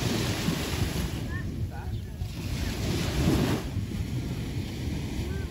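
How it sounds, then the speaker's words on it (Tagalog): Low, gentle ocean waves wash ashore at a beach in Batangas, a soft continuous surf blended with heavy wind buffeting on the microphone. "Mababa yung alon."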